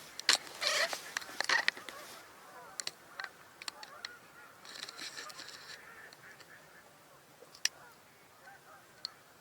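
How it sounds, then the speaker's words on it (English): Mallard ducks calling outdoors, faint honking quacks heard at a distance in scattered short bursts over quiet background noise. "You can hear mallards from here."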